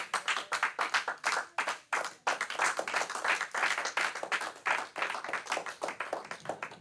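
A church congregation claps together in a lively, fast rhythmic burst of applause, dense and continuous with no voices over it.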